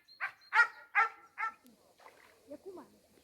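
A dog barks four times in quick, loud succession nearby, followed by softer whining sounds and quiet talk.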